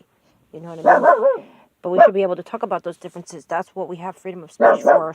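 A dog barks intermittently in a home, its sharp barks mixed in under a person talking steadily on a live chat stream.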